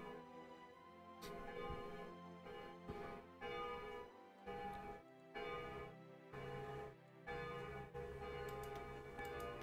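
Church bells ring in the Hearts of Iron 4 strategy game, a loud, continuous peal of overlapping tolls with rhythmic swells and brief dips, steady throughout with no voices.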